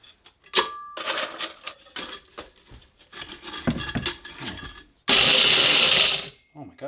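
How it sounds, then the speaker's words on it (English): A blender whirs as it grinds crispy smoked Alaskan moose meat into powder, starting with scattered clattering and short pulses, then a loud steady roar for about a second before cutting off. "we're gonna take all of this nice crispy meat that we just smoked and we're gonna blend it up into a powder"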